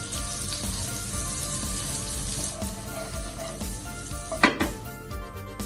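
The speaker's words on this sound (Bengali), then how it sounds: "বাটারটাকে আমি মেল্ট করে নেব।" Butter melts in a pan for cheese pasta, giving a steady soft sizzle with a few light clinks of utensil on cookware and one sharper clatter near the end, no voices.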